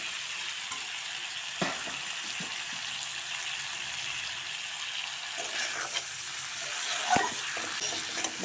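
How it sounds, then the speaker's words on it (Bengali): Fried eggplant is stirred into a simmering potato curry after a little water goes in, producing a continuous moderate hiss and sizzle broken by occasional spatula scrapes and clanks against the pan. "জল দিয়ে আবার হালকা নেড়ে চেড়ে ভেজে রাখা বেগুন দিয়ে দেব।"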